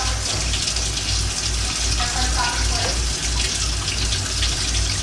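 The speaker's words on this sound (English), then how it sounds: "That was four more cups of water, so we got 12 cups of liquid in there to cover up the meat" Water gushes steadily into a pot holding a homestyle beef roast, a continuous close pour of liquid that keeps an even level from start to finish with no pauses.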